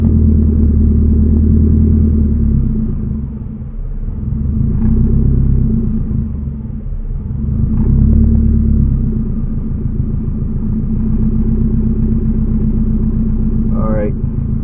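A turbocharged Toyota Vitz running rich sits at idle, its engine putting out a steady, loud low rumble that swells and eases a little as the idle speed is adjusted. A brief higher whine rises near the end.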